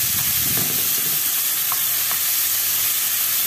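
Tomatoes frying in a pan with ghee, a steady close sizzle running throughout with a few faint clinks of stirring.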